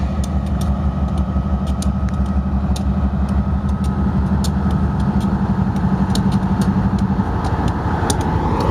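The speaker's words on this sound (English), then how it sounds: "here's another C44AC right here. This lead engine, number" A C44AC diesel locomotive, lead engine number 6467, running with a steady, loud, deep rumble that holds unchanged throughout, close by and with no voices over it.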